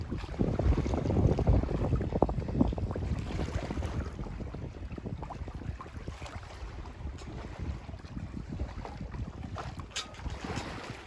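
A sailboat moving slowly under light wind at sea, with steady wind rush over the microphone and soft water sounds along the hull, continuous and fairly quiet with no talking.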